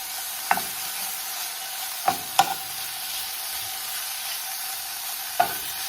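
Steak searing in a hot pan for quesadillas gives a steady sizzle and frying hiss throughout, with a few sharp clicks or stirs of the pan standing out, no talking.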